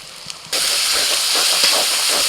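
A paste of Kashmiri chili powder and turmeric mixed with water hits a hot pan and sets off a loud, sudden, continuous sizzle that hisses on steadily.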